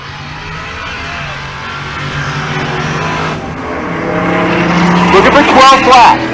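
A Fox Mustang and a Pontiac GTO rumble on a drag strip at race week in Pueblo, Colorado, with a loud, sustained engine drone that swells toward the end as revving builds, while an announcer talks over it.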